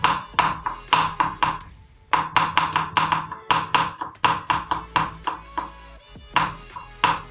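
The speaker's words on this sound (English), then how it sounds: "I'm going to finely mince this garlic of mine" A knife finely minces garlic on a cutting board in bursts of rapid, close, crisp chopping taps, pausing briefly between runs, with no voices.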